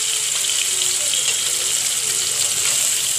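Dried Bombay duck fish fries in hot oil in a pan with a dense, steady hiss and crackle that stays loud and continuous throughout, with no talking.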